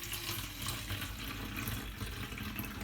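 White vinegar poured from a bottle of just under a litre into a spray-bottle cleaning mixture, a steady splashing liquid stream that runs continuously and fairly quietly.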